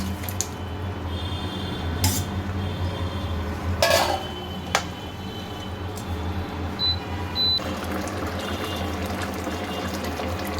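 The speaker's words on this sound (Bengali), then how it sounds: "বন্ধুরা দেখেন আমার ঝোল তো ফুটে উঠছে এবার আমি মাছগুলো দিয়ে দেবো" Prawns dropped into a pot of boiling curry broth, with a few sharp clinks of utensils against the pan over a steady bubbling, sizzling wash.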